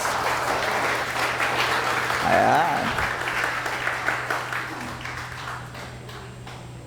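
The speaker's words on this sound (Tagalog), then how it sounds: "The best mo ng palakpak para kay Jesus." A church congregation claps for Jesus during a Sunday service, a sustained wash of applause with a low steady hum beneath it, a short sung or spoken phrase rising over the middle, then the clapping tapers.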